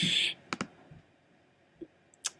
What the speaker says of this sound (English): what I was clicking in there with the eyedropper tool on